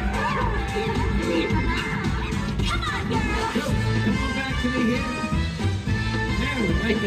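Crowd at a Universal Studios street show cheering on cue, a dense sustained roar of many voices with children shouting and whooping, loud and close throughout.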